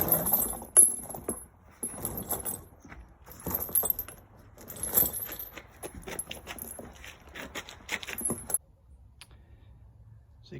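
Metal snow tire chains being fitted around a Toyota Tacoma Pre-Runner 2WD tire, with close jangling and rattling of chain links in uneven bursts, then a quiet pause near the end.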